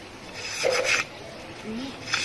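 Bamboo strips scraped by hand to prepare weaving material for an Isan sticky rice basket, heard as soft rasping strokes in a quiet setting, with a louder pass midway and a brief scrape near the end.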